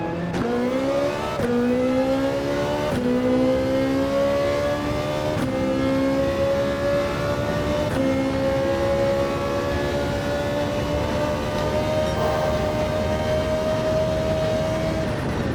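Ferrari 458 Italia V8 in a racing video game, revving hard through the gears on a lap, with rising harmonic whine and sharp upshift breaks every few seconds, loud and continuous with no talking.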